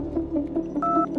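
A telephone number is punched in on a phone keypad, a short run of dialing tones and key beeps with one longer tone near the end, nearby and fairly clear over a low background hum.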